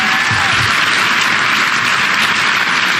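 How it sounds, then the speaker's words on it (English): A political audience applauding: dense, sustained clapping from a large crowd, steady and loud throughout with no pauses. "those of you watching at home may wonder why this is being applauded"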